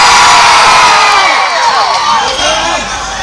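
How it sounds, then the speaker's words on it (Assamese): A loud crowd cheers, whoops and shouts continuously at an event for the Assamese film Sri Raghupati, with many overlapping high voices close by and steady in level throughout. "ৰঘুপতিৰ কাৰণে জোৰকৈ চিঞৰটা লাগিব এতিয়া।"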